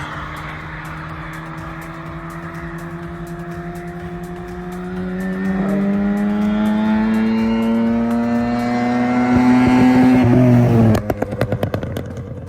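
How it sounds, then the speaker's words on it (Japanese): A Mazda RX-7 engine revs up loudly, its pitch climbing steadily as it accelerates and roars closer, then cuts to rough popping backfire. "あんなちっちゃい割にはエンジンのサイズの割にはもう大きい音だよね"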